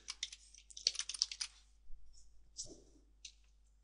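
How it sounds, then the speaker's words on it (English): Keys clatter in quick bursts of close typing on a computer keyboard, a dense run of clicks followed by a few separate, softer taps. "if we type in hairdressers"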